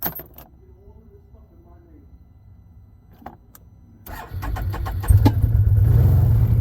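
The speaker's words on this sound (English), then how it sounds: "the starter sounds a whole lot better. Let's try that one more again." A Can-Am's starter cranking briefly before its engine catches and settles into a loud, steady running rumble, preceded by quiet clicks and handling noises at close range.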